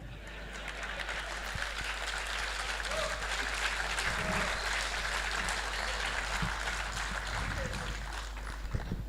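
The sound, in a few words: audience applause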